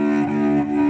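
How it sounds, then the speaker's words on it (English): Low cello string bowed with too light pressure and too fast a bow, giving a thin, surfacey tone rich in harmonics, one sustained note held loudly for a second with no talking. "If you play with too light of a pressure and too fast of a speed, it's going to sound like this."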